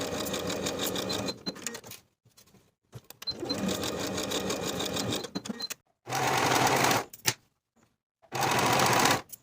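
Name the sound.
sewing machine sewing bodice shoulder seams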